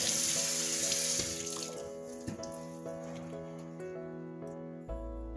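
Kabocha squash rinsed under a running kitchen tap, a steady broadband rush of water into a sink with small splashes and clunks as the squash is handled, fairly close and with no talking.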